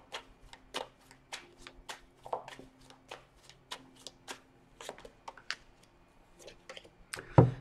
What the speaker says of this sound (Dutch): En zal de kaarten schudden om te kijken wat deze week voor de tweeling gaat brengen.